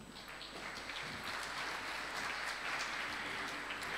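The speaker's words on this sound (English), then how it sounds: "a round of applause for her." A business leaders' conclave audience applauds steadily for four seconds, an even wash of many hands clapping at moderate distance in a large hall.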